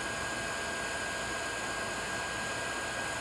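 An old hair dryer serving as bellows for a blacksmith's forge blows a steady, faint, even rush of air with no change.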